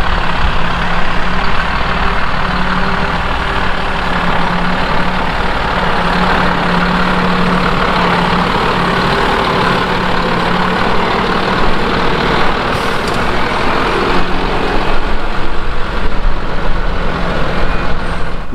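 A Mercedes Unimog U430 truck's diesel engine drones loud and close as it pulls off in third gear, a steady heavy rumble lasting throughout with no speech.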